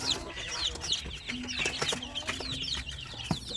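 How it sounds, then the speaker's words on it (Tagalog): Two-week-old Shamo Aseel chicks give a busy flurry of high, thin peeps and chirps close by, with a few clucks and some background bumping. "Ayun o, 2 weeks old Shamu Hassel"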